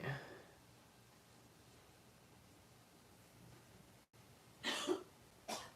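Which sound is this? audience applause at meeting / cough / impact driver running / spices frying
cough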